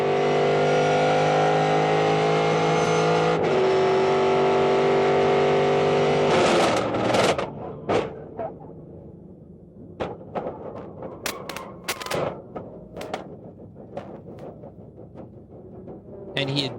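Onboard a 2001 ALMS race car at Texas running in top gear near 165–170 mph, a loud sustained engine roar that shifts pitch, then breaks off into a burst of sharp knocks, thuds and scattered impacts as the car wrecks.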